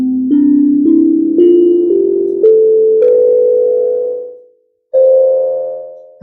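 A steel tongue drum with some slightly off, funny-sounding tones plays its basic scale, about seven clear ringing notes rising one after another at a steady pace. The last note decays away, and after a brief pause a single higher note rings out.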